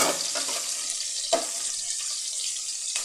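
Metal spoon scraping and clanking in a pan (kaserola) while chicken and liver adobo is stirred, a steady watery sizzle with a few sharper knocks, close by and with no talking.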